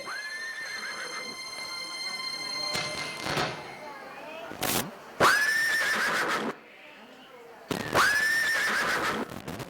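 Horses harnessed to a chariot give repeated loud whinnies, three long neighs with quieter noises and sharp bangs between them, all heard close up.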